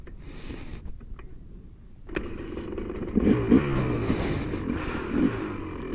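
A KTM motorcycle engine idles and revs nearby on a sandy beach, rising into a steady rumble after a quieter start.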